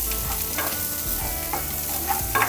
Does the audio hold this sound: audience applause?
no